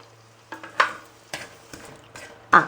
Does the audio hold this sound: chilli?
yes